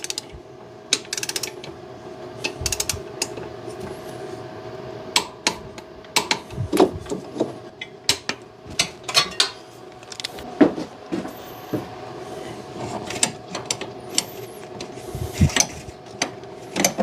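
Mounting bolts on the power steering pump of a 1993 Chevy Blazer being torqued with a wrench, giving scattered sharp metallic clicks and clunks over a steady low hum, close by with no talking.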